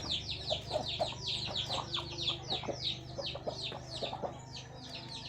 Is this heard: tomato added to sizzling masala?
no